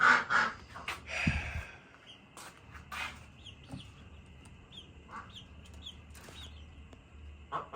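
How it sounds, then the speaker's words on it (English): Roosters crow faintly in the distance, with a louder call at the start and scattered clucks and rustles over a quiet outdoor background. "excuse the roosters there in the background"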